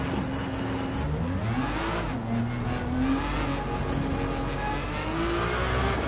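A race car engine in the Gran Turismo 7 video game revs steadily and loud, its pitch rising and falling through gear changes with a continuous whirring drone and no talk.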